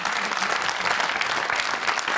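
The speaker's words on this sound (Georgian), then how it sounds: "გილოცავთ კიდევ ერთხელ ხალხო თქვენი აპლოდისმენტები" Applause from a Georgian audience celebrating wrestlers, steady and dense clapping that fills the whole moment without pause, loud and close.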